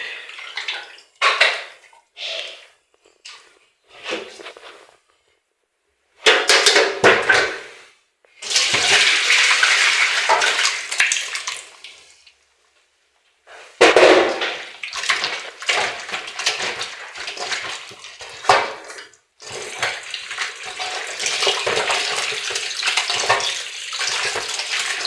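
Water splashes and sloshes in bursts as wheat flour dough is kneaded and rinsed by hand in a basin to make gluten, with short pauses between rounds.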